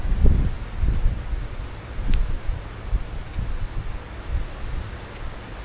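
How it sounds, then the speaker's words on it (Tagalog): Gusty wind buffets the microphone outdoors at a rock climbing area, producing irregular low rumbling gusts with soft rustling throughout. "Hangin, no?"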